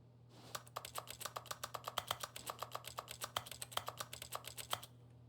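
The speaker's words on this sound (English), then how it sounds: "Press V on your keyboard." Computer keyboard keys are pressed in a rapid, fairly even run of about thirty close, crisp clicks while playing The Stanley Parable.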